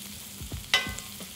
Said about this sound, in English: Add the garlic and the onion and fry it until it's soft.